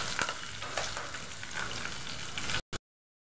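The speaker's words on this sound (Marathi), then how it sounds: "बरें करून परतून घेवका।" Jackfruit sautéing in a pan makes a steady, close sizzle with scraping stirs, stopping abruptly near the end.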